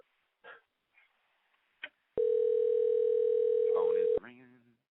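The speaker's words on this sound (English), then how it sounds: "Phone is ringing." A telephone ringback tone sounds during a call dialed out to a radio show guest: one loud, steady tone lasting about two seconds, with a few short voice bursts before it and a brief murmur after.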